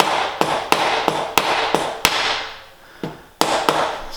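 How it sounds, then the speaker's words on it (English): Hammer tapping a bearing into a gravel bike frame, about ten sharp metallic knocks in an irregular rhythm with a brief pause midway, close and loud. "So I'm hitting on the outside of the bearing, not the inside of the bearing, so it won't mangle the bearings"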